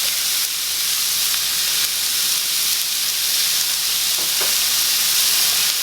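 Garlic sizzling in a frying pan over medium-low heat, a steady close hiss and crackle of frying that holds evenly throughout with no talking.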